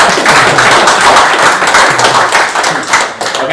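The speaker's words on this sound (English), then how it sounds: "I think we could do a small applause for them" Applause from the audience for members of a panel at a community night, dense steady clapping held for several seconds at close range with no talk over it.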